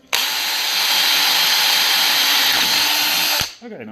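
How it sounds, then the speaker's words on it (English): A power drill whirs loudly and steadily at close range for about three seconds, then spins down abruptly. "next step is drilling."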